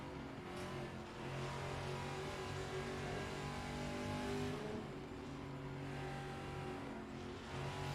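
Race cars do burnouts at Bathurst in the video game GT Club, their engines droning and revving continuously at a steady, fairly loud level for several seconds, with no talk.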